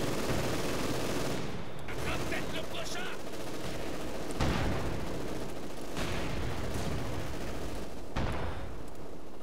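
Mortar and Werfer 34 grenade launcher fire in Company of Heroes 2 on the Eastern Front: a dense, steady roar of battle with repeated heavy thumps and blasts landing every couple of seconds throughout.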